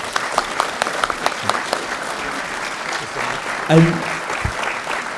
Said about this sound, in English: Alan Stewart, please give him a round of applause